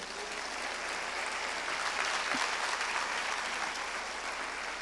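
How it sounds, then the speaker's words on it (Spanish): A church congregation applauding at the close of a sermon, a steady even wash of clapping at moderate level, with a faint brief voice partway through. "Un aplauso al Señor"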